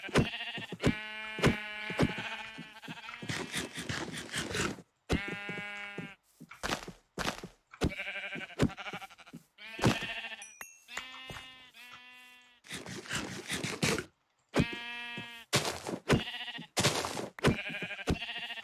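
Sheep in the Minecraft video game bleat over and over, with sharp, buzzy game-style bleats in quick irregular bursts separated by short silences, close and clear with no talking.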